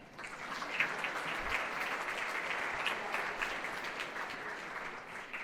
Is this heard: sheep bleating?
no